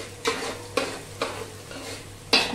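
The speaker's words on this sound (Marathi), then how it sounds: "नंतर घालूया काजू. मस्त तळून घ्यायचं." Cashews frying in ginger-garlic paste for navratan pulao, with a soft steady sizzle broken by four distinct scraping stirs of a spoon in the pan, close and moderately quiet.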